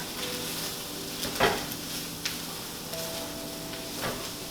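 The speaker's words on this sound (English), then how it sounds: "So just sprinkle on the mixed herbs. Give them a bit of a stir." Mixed herbs are stirred into a sizzling pan, giving a constant hiss with a few soft scrapes and taps from the utensil and a faint hum underneath, with no voices.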